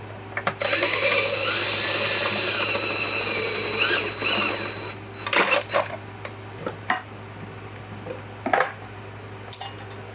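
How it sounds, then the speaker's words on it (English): A drill bores into a retractable extension cord reel, whining loudly and close for several seconds, followed by scattered clicks, rattles and handling knocks of the casing. "We're gonna have to drill this out."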